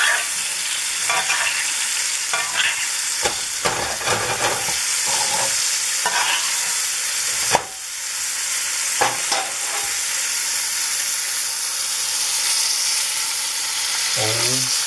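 Top round steak frying in a tilted pan while juices are spooned over it, a loud, continuous sizzle with scattered spoon clinks and scrapes, and a voice briefly heard.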